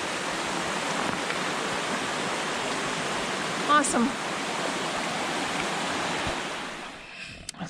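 Steady rushing water from a stream running right beside a mountain hiking trail on the Franconia Ridge loop, a constant broadband wash close by, with a brief spoken exclamation over it.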